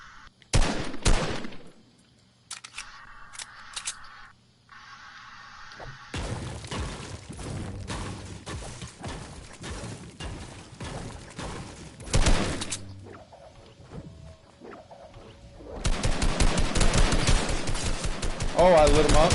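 Rapid automatic gunfire and bursts of shots in a Fortnite World Cup Finals match, several volleys with crashing impacts, loud and close, with brief breaks between the bursts.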